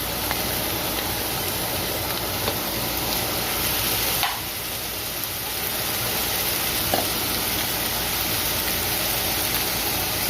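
Vegetables sauté with garlic in a hot pan for a vegetable soup, giving a steady, close sizzle with occasional stirring scrapes and a short dip midway.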